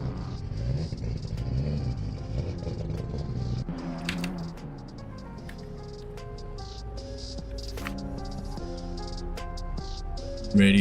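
A Toyota Supra drift car at a Long Beach drift event, engine rumbling and revving up through rising gears, loud and fairly close, without talk.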